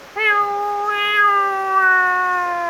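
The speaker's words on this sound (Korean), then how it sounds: "고양이도 있고" A single long, drawn-out meow from a nearby cat, clear and steady with no talking.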